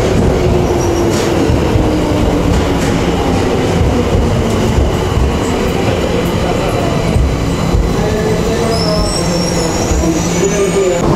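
Steady loud rumble of a Tokyo metro train in motion, heard from inside the car, with rattling wheels and a faint high squeal toward the end.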